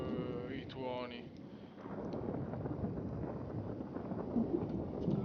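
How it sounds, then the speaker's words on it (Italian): Low rumbling thunder rolls through a steady rush of heavy rain during a rainstorm in The Sims 3 video game, faint and continuous, with a voice talking briefly at the start. "I tuoni."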